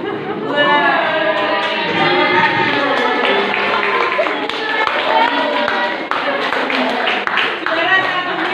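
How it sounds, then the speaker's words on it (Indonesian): A classroom group applauds after prize winners are announced, with scattered hand clapping continuing for several seconds while children's voices chatter over it. "Tepuk tangan dulu ya."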